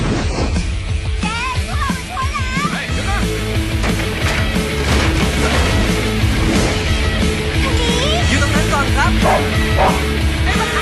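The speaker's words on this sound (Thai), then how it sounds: "เฮ้ยไอหมาไอ้ดำสิ" A dog barks and yips repeatedly over a busy musical soundtrack in a Thai film trailer, with short whimpering calls mixed in and some voices.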